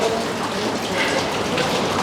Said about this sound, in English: Back into the caves we go with their drip, drip, drip,